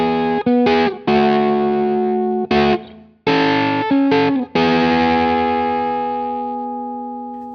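Electric guitar through a KarenX fuzz pedal on the middle and bridge pickups, thick saturated fuzz chords struck in short choppy bursts before a final chord rings out alone and slowly decays.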